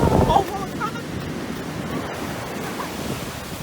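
Ocean waves wash onto a beach in a steady rushing roar, slightly louder at the start, with wind noise on the microphone and a faint voice underneath.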